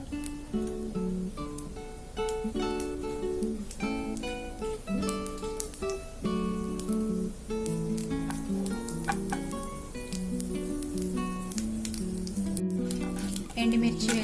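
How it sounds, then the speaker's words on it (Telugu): Cumin, mustard seeds and urad dal frying in oil, a soft continuous sizzle with scattered pops, heard faintly beneath steady tonal background music. "కొద్దిగా జీరా వేసుకున్నాము. కొన్ని ఆవాలు, కొద్దిగా మినపప్పు. కొద్దిసేపు ఫ్రై అయిన తర్వాత"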